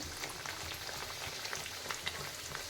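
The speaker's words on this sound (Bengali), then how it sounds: "ছাকা তেলে একটু পরোটা করে নিচ্ছি" A paratha deep-fries in oil with a soft, even crackling sizzle, faint and steady, resembling light rain.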